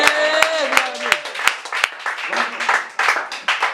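An audience at a church service on faith breaks into sharp bursts of clapping and cheering, with several loud single claps and raised voices over a shouting speaker.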